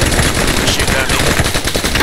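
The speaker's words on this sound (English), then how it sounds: "Shoot at me." Sustained automatic gunfire from enemy AI in a video game, a dense rapid rattle of shots filling the whole stretch at high, steady loudness.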